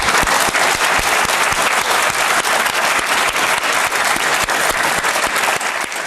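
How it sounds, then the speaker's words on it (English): Loud, dense audience applause fills the space at full strength for about six seconds, a close, continuous roar of many clapping hands with individual sharp claps standing out, easing slightly at the very end. "and then the round of applause"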